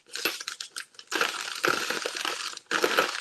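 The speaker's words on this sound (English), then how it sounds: "If I can get this package open" Crinkly plastic packaging around a set of magnet sheets being pulled and torn open in a craft room, in bursts of close, sharp rustling and crackling with brief pauses.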